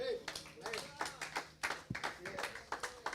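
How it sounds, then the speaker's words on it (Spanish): A short burst of clapping hands at a church service, uneven and fairly close, mixed with voices. "Den un aplauso al Señor"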